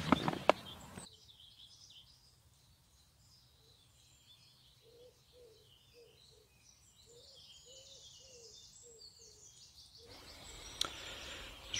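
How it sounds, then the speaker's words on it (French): Soft bird calls repeat in short, evenly spaced notes over a quiet outdoor background, faint and somewhat distant, with a louder burst of noise at the start and end. "Il est bien là, les oiseaux chantent."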